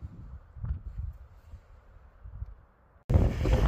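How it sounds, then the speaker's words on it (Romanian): Gusty wind on a mountain ridge in Romania's Scorota Gorge area rushes across the microphone in low, uneven buffets, swelling and easing, then a sudden loud roaring blast near the end. "Vântul bate din nou."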